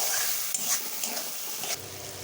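Tangra fish and spices sautéing in a pan for a Bengali curry, a soft continuous sizzle broken by a few light scrapes of stirring, no one speaking.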